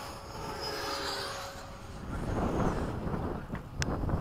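Light aircraft engine droning steadily during a touch-and-go landing on a formation flight, heavy wind rush over the microphone building and swelling toward the end, no voices.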